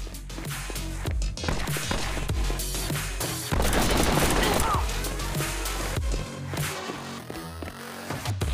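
Sniper rifle fire from a mobile shooting game, with loud gunshot bursts and booms layered over continuous game music and effects, one dense blast standing out near the middle.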